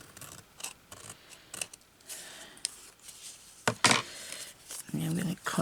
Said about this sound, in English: I'll try and cut this off a bit straighter here.